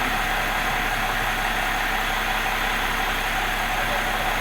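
A car engine idles steadily at close range, a continuous even hum and rumble with no change in pace and no voices.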